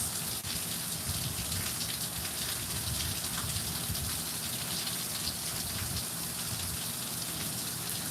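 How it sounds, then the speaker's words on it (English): Steady rain blowing through a window screen, a dense, even hiss with soft pattering drops that holds at the same level the whole time, close by and with no voices over it. "the rain is really blowing through the screen"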